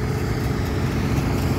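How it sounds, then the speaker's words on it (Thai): A farm tractor's engine runs as a steady, loud, low diesel drone, idling close by with a constant even rumble and no talk. "เนี่ยรถไถเข้ามารออะไรยังไม่รู้นะครับ"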